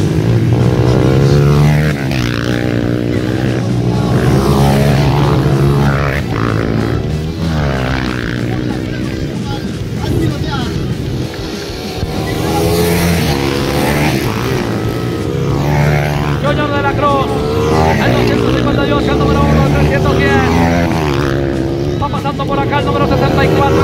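Motocross motorcycles racing at full speed at the Copa Piston Up in Chincha, Peru, with engines buzzing and rising and falling as they pass, loud and close throughout, under a commentator's voice.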